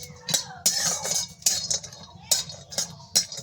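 A spatula scraping and stirring cashews frying lightly in ghee in a pan, sharp metallic strokes repeating roughly every half second over a faint low sizzle, close-up with no speech.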